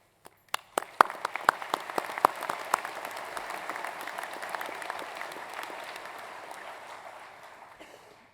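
Audience applause fills a university graduation ceremony hall: a few sharp early claps swell into steady, dense clapping from a large crowd that slowly fades over several seconds.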